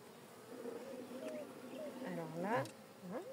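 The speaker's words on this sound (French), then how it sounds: "il y a 5 abeilles" Honeybees buzz around an open, smoked beehive during a hive inspection, a faint steady drone that wavers in pitch as individual bees pass close, with a person speaking softly underneath.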